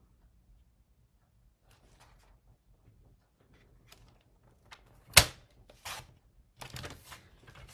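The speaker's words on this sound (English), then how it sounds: "Now I'm going to cut my pieces." Card stock is cut to size with a paper trimmer for a Z fold card. After a quiet stretch there is one sharp, close snap, then a few softer slides and clatters, with no one talking.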